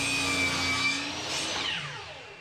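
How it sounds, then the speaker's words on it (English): A compound miter saw set at 45 degrees cutting a short piece of plexiglass against a stop block, a loud whining motor with a brief cutting pitch that winds down toward the end. "Going back to the compound miter saw at 45 degrees with a stop block."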